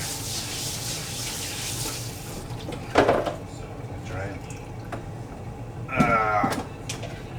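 Running water from a kitchen tap rinses a cutting board at a cooking station, a steady wash of flow with a few louder splashes and clatters partway through.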